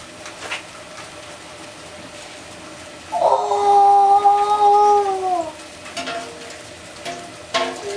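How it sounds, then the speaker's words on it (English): Hot double bit axe head plunged into quenching oil, a sudden loud hiss and sizzle with a sustained whine lasting about two seconds before fading, set against quiet shop background. "if you want to quench that, just go straight down in the oil"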